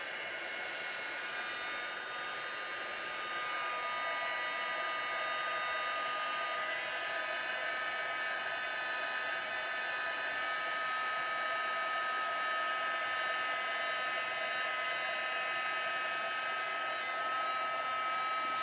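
A heat embossing tool blows with a steady, high whirring hiss, constant and unbroken throughout, loud and close.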